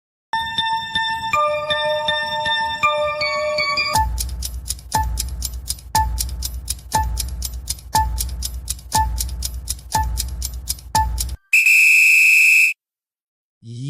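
A video game tune from the Ice Cream game: a few sustained whistle-like electronic tones, then a steady ticking countdown with low thumps, cut off by a loud bright buzzer blast, all synthetic and without voices.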